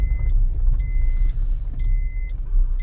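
Car pulling in and parking at a petrol pump at night, a steady low engine rumble close by with repeated high reversing beeps sounding in short bursts, no talk.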